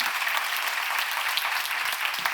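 Church congregation applauding during a sermon, a full, continuous burst of many hands clapping at once, loud and close, with no voices over it.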